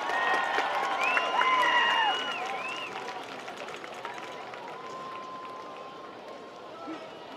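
Spectators at a varsity high school game at Chaparral applaud the Chaparral cheer line, with a burst of clapping, whistles and cheers swelling in the first two seconds, then easing into softer, sustained crowd noise.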